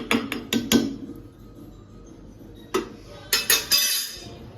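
Sharp metallic clinks and clatters of utensils against a metal strainer as candied amla is poured in to drain come in two clusters, with quiet gaps between the bursts.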